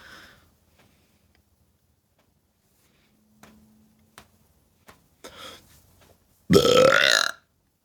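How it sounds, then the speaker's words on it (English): A loud, drawn-out burp after drinking LaCroix sparkling water comes near the end, following a few faint sniffs and small mouth clicks in an otherwise quiet room. "I guess LaCroix brings the burps."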